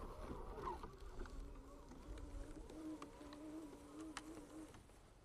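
A Segway Navimow X4 robotic mower hums faintly with a steady buzzing tone as it crosses bumpy ground pocked with badger and rabbit holes, distant and low in level.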